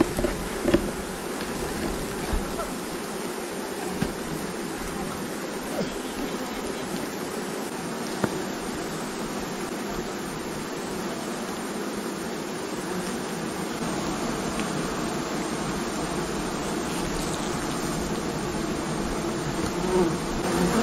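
A dense swarm of honey bees buzzes steadily around their hive, a continuous close-up drone that holds at an even level for the whole stretch.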